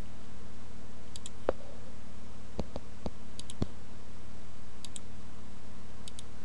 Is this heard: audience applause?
no